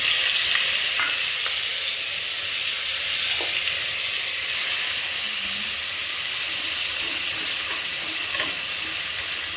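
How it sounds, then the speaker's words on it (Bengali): Steady, loud sizzling of shrimp frying with fried onions in a hot pan, with occasional faint clinks of stirring and no talking. "চিংড়ি মাছটা ভালো করে এর মধ্যে দিয়ে ভেজে নেবো"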